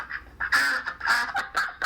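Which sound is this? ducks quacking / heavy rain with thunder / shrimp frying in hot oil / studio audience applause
ducks quacking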